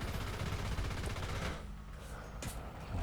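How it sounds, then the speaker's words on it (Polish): An anti-aircraft gun opens fire on a Tiger tank in War Thunder, a rapid continuous burst of loud gunfire that pauses briefly, then a sharp report and the firing resumes. "zaczyna do mnie strzelać pelotka niby nic wielkiego, ale szkód może narobić"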